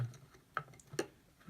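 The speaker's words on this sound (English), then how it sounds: "It's my clock." Wall clock ticking indoors, two faint, distinct ticks about half a second apart in a quiet room.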